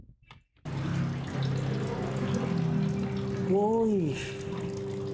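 Water runs steadily in the restroom of an abandoned funeral home in Manila, a continuous hiss that starts suddenly, with a brief voice exclamation partway through.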